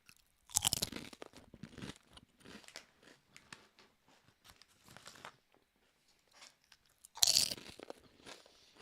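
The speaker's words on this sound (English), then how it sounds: "Then let me get the crunch in." Potato crisps being eaten close to the microphone, with loud crinkling of the packet and bursts of crunchy chewing in irregular clusters separated by quieter moments.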